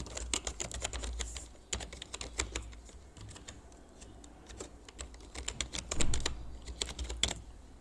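Someone types an email address on a computer keyboard, a close stream of quick, uneven key clicks in bursts with short pauses, including a few heavier strokes, and no voices.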